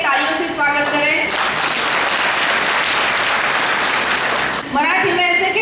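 Loud audience applause welcoming a speaker at a national integrity conference, a dense wash of clapping filling the middle of the clip, with a speaking voice briefly before and after it.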